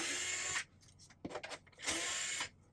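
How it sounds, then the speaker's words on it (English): A power screwdriver whirs in two short bursts while screws are removed from a PlayStation 5 console, with quieter clicks and handling noise between them, close up and without speech. "now we're going to take out all these screws"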